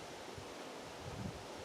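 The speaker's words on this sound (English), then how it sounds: "a little windy out here" Wind blows steadily outdoors, a constant broadband rushing roar buffeting the microphone, with no voices heard.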